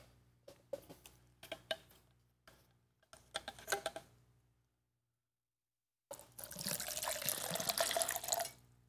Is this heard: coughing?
no